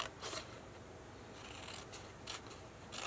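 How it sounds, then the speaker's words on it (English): Scissors snipping along a score line to trim a thin paper tab, a few short quiet cuts with soft rasping between them, close and isolated with no voices. "just cut up one side of your score and then on the other side, so it's a much skinnier tab"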